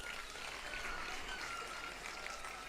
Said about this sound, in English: Please clap for her again.